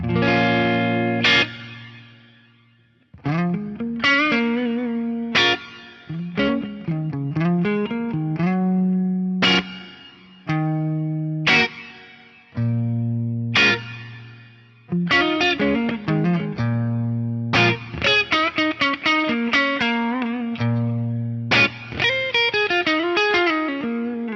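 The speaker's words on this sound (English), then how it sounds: "It's the Reverb Flange. This is a really nice combo effect." A guitar runs through a Yamaha REV7 Reverb Flange combo patch, sustained chords and single notes swirling with sweeping flange and reverb tails, phrases separated by short gaps, played alone without talk.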